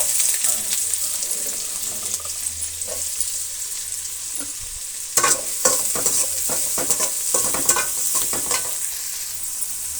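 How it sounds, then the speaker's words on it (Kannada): Chopped onions with mustard seeds sizzle in a pan, a steady close frying hiss that turns busier with stirring scrapes and spatters in the second half. "ಈಗ ಕಟ್ ಮಾಡ್ಕೊಂಡಿರುವಂತಹ ಈರುಳ್ಳಿನ ಸೇರಿಸ್ತಾ ಇದ್ದೀನಿ"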